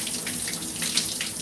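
Cold shower water runs in a steady, fairly loud hiss of spray, unbroken throughout with no voices.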